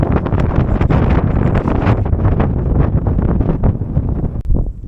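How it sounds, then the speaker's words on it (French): Strong wind on a mountain buffets the microphone in a continuous loud roar, with gusty rumbling and rustling and no voices. "Ouais, il commence à y avoir du vent ce matin"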